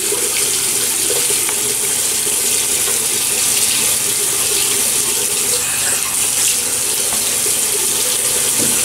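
Tap water runs into a sink while the face is wet before shaving, a loud, close, steady hissing splash lasting throughout with no talking.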